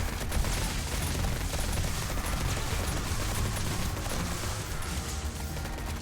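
Sustained machine gun fire in the video game 7 Days to Die, a continuous dense rattle of shots running steadily for several seconds at moderate level with no talk.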